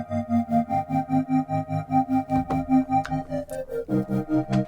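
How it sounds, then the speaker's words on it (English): A looped flute melody sample treated with reverb and an auto filter, its notes pulsing in a steady wavy rhythm, clear and alone, with the tune shifting near the end. "I have this little melody loop flute thing"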